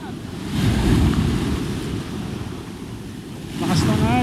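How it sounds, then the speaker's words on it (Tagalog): Strong ocean waves surge and break near a beach resort, a rough continuous wash of surf with wind buffeting the microphone, swelling loud at the start and again near the end. "Lakas ng alon."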